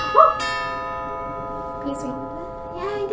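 A bell in Five Nights at Freddy's VR gives a single bright ring that sustains and slowly decays. A faint voice murmurs beneath the ringing tone.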